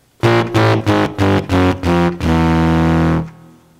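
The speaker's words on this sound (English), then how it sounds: "By the way, I'm using a baritone sax sound." A buzzy, reedy synthesized baritone saxophone plays a quick series of short detached notes, then holds one long low note before stopping.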